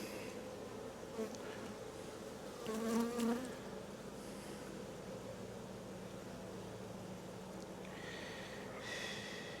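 Honey bees buzz in a steady drone during a June hive inspection as frames are searched for the queen, with a close bee passing louder at moments and soft handling noises.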